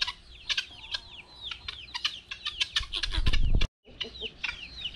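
A rooster gives repeated clucking calls to hens in quick bursts, with a rough crowing cry midway, close by and fairly clear over a quiet background.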